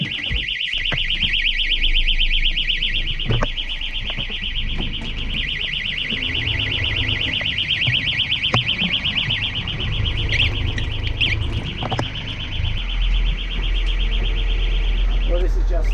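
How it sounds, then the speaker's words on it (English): A bilge alarm on a sailing boat with a suspected back-siphoning seacock sounds a loud, continuous high electronic tone, while people talk and clatter beneath it. "the alarm went off for my bilge"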